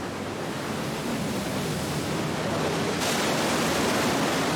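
High, wind-driven sea waves surging into the entrance of Neptune's Grotto sea cave on Sardinia, a dense continuous roar of surf that swells louder toward the end.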